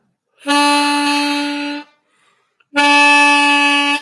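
A diatonic harmonica draw note on hole 1 sounds twice as two long, steady reedy tones, each held well over a second, with a brief silence between them. They are close and fairly loud.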